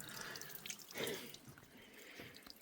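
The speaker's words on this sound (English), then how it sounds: "I got my water filtering over here" Water trickling and dripping through a backpacking filter at a trail campsite: a faint, close, continuous patter of drips with one slightly louder splash, heard alone with no talk.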